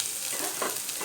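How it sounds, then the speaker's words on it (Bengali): Onion and garlic frying in a pan for paneer fried rice, a steady dense sizzle with faint stirring scrapes, close and continuous with no talk. "তো দেখো আমার পেঁয়াজ রসুনটা ফ্রাই হয়ে গেছে।"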